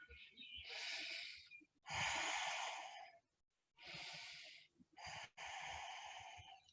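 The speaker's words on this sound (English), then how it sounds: "And just take 3 breaths here" Yoga breathing in a forward fold: slow, deep breaths drawn in and let out audibly, four or five long airy breaths separated by brief pauses, close and clear with no talking over them.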